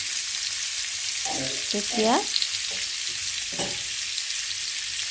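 Paneer fries in a pan with a steady close sizzle and crackle, while a voice speaks a few short phrases over it.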